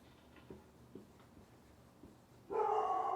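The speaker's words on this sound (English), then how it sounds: "Can you hear my dog barking?" A dog barks at a distance in a home, several short muffled yaps spaced out at an irregular rhythm, followed by a louder burst of whimpering or yelping toward the end.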